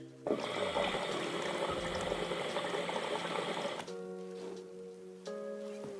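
Water bubbles continuously through an Ultimate Hookah Dock shisha, a steady close gurgle that shifts in tone partway through, with no talking over it.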